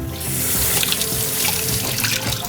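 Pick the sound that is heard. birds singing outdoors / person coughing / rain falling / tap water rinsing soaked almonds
tap water rinsing soaked almonds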